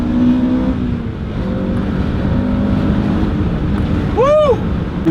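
A 1999 Acura Integra GSR engine revs hard as the car builds speed, a loud steady engine drone under heavy wind noise with a rising whine near the end.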